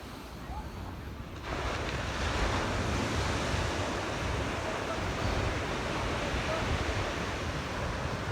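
Ocean waves wash onto the shore near Pebble Beach, a steady broadband roar of surf that swells after a quieter first second and carries on evenly, mixed with some wind buffeting the microphone.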